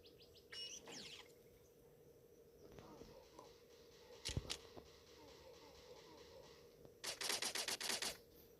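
Gunfire in a border patrol video game: a single sharp shot near the middle, then a rapid burst of repeated automatic fire toward the end over low background sound.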